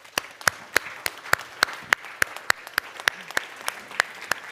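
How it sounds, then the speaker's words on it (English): Sparse applause from a small audience, individual claps ringing out in a quick, uneven rhythm, fairly close and clear. "you deserve another round of applause for all your good work"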